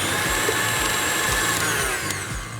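An electric mixer whirls room-temperature butter into cream cheese frosting, a steady, loud motor drone with a faint rhythmic beat of the beaters, running alone for a few seconds.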